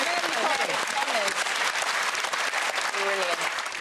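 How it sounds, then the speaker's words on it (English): A studio audience claps warmly after a contestant's failed attempt on a comedy panel show. The applause is loud, dense and continuous for a few seconds, with a voice talking over it. "I think a round of applause there"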